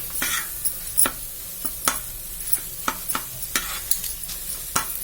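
Potatoes being stirred into butter-rich pav bhaji masala in a pan, a soft steady sizzle broken by repeated scraping strokes of a spoon at an irregular pace, close and fairly quiet with no talking.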